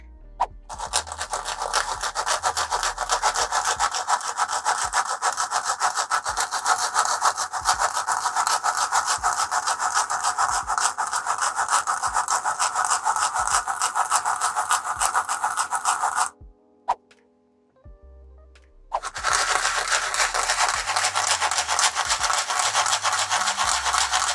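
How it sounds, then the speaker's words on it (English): Sanding the base of a crafted cauldron for a tabletop roleplaying relic to flatten an uneven cut, steady rapid back-and-forth scraping, close and continuous, pausing briefly near the end before resuming. "I think the next step will be to sand that a little bit flatter, because my cut wasn't great."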